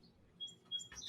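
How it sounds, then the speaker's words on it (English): Birds chirp in a few short, high tweets over a low indoor hum, brief and fairly faint. "You can probably hear the birds because they're loud."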